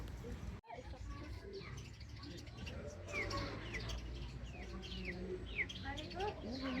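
Small chicks peep in a farm park chick pen, scattered high thin chirps at moderate distance under a person talking and outdoor background noise.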